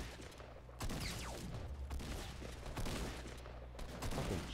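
Shotgun blasts in a battle royale shooter with a blue-rarity shotgun: four loud, booming reports spaced roughly a second apart over steady game noise, with no talking.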